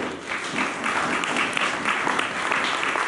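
A church congregation applauding, a dense, loud wash of many hands clapping together that holds steady and close for a few seconds, with no voices standing out.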